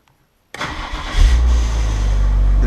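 A BMW E36 starts from a push-start button after a moment of silence: the engine cranks, catches loudly and close up, then settles into a steady idle.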